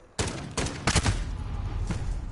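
A Dragunov rifle fires in a video game, with a few close, loud shots in quick succession and their echoes trailing off, and no talk.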